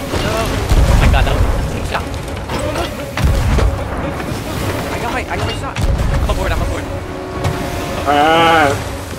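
Cannons fire at an enemy ship's mast in a pirate video game, a series of loud booming blasts spread across the clip, mixed with game noise and players talking over them.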